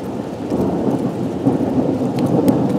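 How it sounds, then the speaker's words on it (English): Heavy thunder rumbling continuously through a rainstorm around a cabin with a garden, loud and close, with steady rain hiss underneath and no talking. "Listen to that thunder."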